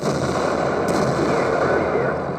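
Artillery fire in the tank battle game World of Tanks, a loud, dense roar of blasts and rumbling bursts that fills the short moment without letting up.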